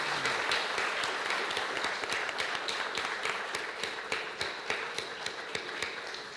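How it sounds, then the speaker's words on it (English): Audience at a tribute event applauding honoree Maurice Ferre, a steady round of clapping with distinct sharp claps standing out nearby. "I ask you to give a round of applause to our honoree, Maurice Ferre"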